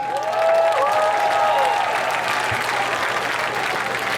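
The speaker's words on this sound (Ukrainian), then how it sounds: "Ваші оплески" An audience applauds at a Ukrainian nationalist festival, sustained broad clapping from a large crowd with a brief tonal whistle or feedback near the start, loud and continuous throughout.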